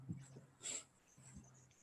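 A small dog whimpers softly in a couple of short, thin whines with faint breathing between them, close but quiet, while people talk quietly nearby.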